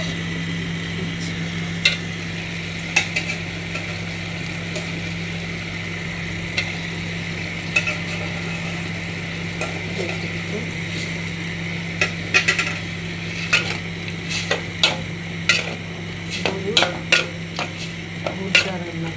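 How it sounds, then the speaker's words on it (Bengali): Spice masala being stir-fried in a pan as boiled chicken is added, a steady sizzle under scattered scraping and clinking of a spoon against the pan that grows busier toward the end. "মশলাটা কষাচ্ছি আর মুরগা সিদ্ধ করা মুরগা দিচ্ছি।"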